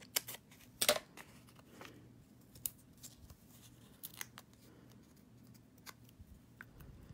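Scissors snip through designer series paper while cutting pieces for handmade cards, giving a few sharp, close crisp cuts with quiet pauses between them and no talking.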